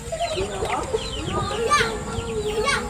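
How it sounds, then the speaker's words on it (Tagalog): A five-month-old Alimbuyugin rooster clucks and calls in a short, busy yard scene, its voice mixed with children playing and chatter nearby over steady outdoor background noise. "Ito po yung manok natin na 5-month old na alimbuyugin."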